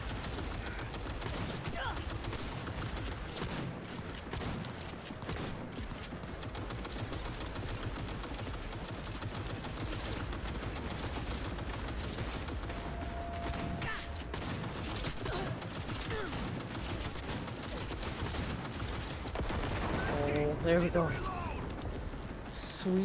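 Gunfire in the Cyberpunk video game, a dense, continuous clatter of shots and bursts layered with game noise for the whole stretch, growing louder near the end, with a player talking over it.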